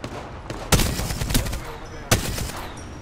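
Gunfire in the video game Apex Legends: bursts of dense rapid shooting with two sharp loud onsets, mixed with game sound effects and heard close.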